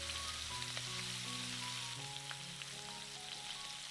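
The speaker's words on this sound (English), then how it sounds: "take our beautifully roasted chicken drumsticks right out of the sizzling skillet" Chicken drumsticks sizzle in a skillet on a stove, giving a constant, dense crackle that runs through the whole moment beneath soft background music.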